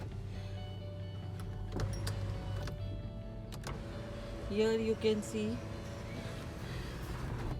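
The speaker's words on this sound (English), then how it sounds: "Jagan is driving the car" A car drives through desert terrain during a camping trip, its engine a low, steady hum beneath intermittent clicks and a voice speaking briefly.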